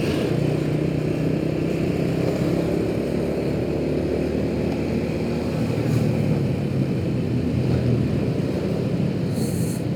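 Traffic on a Jakarta-Bogor commuter route, with two cars and several motorcycles ahead, makes a continuous, moderately loud engine and road drone heard from inside a moving car, steady throughout with no voices.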